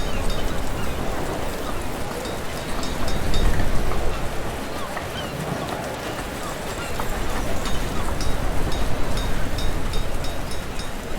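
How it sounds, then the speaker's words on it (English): Heavy rain falling in a village-building video game map, a dense, steady wash of pattering hiss that fills the whole stretch without pause. "I swear it is so rainy in this game."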